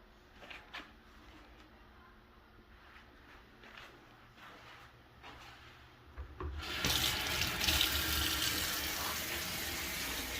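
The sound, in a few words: water running into a pot for cooking ravioli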